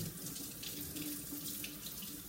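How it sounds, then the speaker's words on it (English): Water running steadily from a kitchen tap into a sink while fish is rinsed, a close continuous splashing stream with no talking. "All right, so I'm going to rinse this again."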